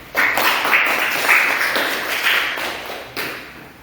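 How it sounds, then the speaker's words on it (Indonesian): Brief bursts of hand clapping for presentation groups 1 and 2 in a classroom, several short rounds of claps starting and stopping, fairly close and loud with no voices over them. "Kita kasih aplaus untuk kelompok 1 dan kelompok 2"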